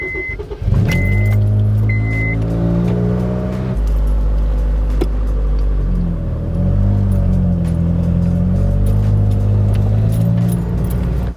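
A Honda Civic Type R EP3 on Enkei RPF1 wheels starts rolling off, with a loud, close, steady engine rumble and low drone, keys jangling and a chime at the start, and no talk.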